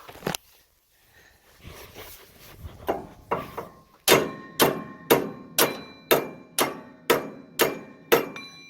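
A ball-peen hammer strikes a bearing on a baler, a few scattered knocks and then a steady run of about nine evenly spaced, loud, ringing metallic taps.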